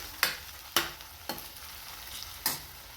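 An egg-rice onion mixture fries quietly in a pan under soft sizzling, broken by four sharp scraping stirs of a spatula at uneven intervals, with no voices present.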